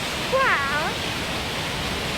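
Water falling into a rocky chasm near Milford Sound, a steady broad rushing roar that fills the whole moment, with a brief bird-like chirp over it.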